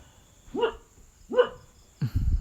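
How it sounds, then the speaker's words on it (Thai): Dog barking loudly, two separate yelping barks with a gap between them, followed by a burst of rougher low noise at the end. "มาเห่าแรงมาก"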